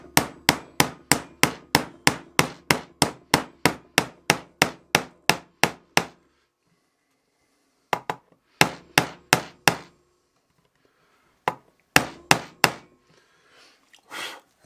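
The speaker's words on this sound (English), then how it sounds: "Just give that a little tap with a hammer, make sure you hit it" Hammer striking parts into a Gear4music Seattle Jazzmaster-style kit guitar body: a rapid run of sharp, evenly spaced taps for about six seconds, then short bursts of a few taps after pauses, close and clear with no talk.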